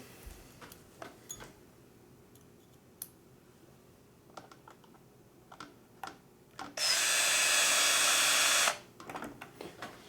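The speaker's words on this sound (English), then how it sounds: "it is much easier to use an electric screwdriver for this installation" An electric screwdriver whirs for about two seconds while driving a screw into an RC car roll cage, preceded and followed by scattered small clicks and plastic handling taps nearby.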